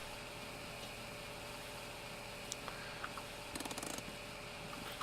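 A tractor engine idles steadily in a farming simulator game, a low continuous hum with a short burst of mechanical clicking partway through.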